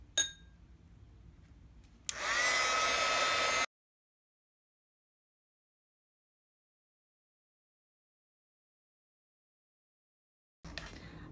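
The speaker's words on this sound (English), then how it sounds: "now I'm gonna take my heat tool" Embossing heat tool blowing hot air, a steady close whooshing hiss lasting about a second and a half, then cutting out to near silence before resuming briefly at the end.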